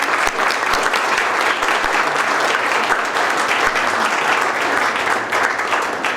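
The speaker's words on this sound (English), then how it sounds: "Marilena, we'll give a big round of applause to Marilena." Audience at an evening event on Cyprus's geostrategic role giving a big round of applause for a minister, dense and loud continuous clapping filling the room.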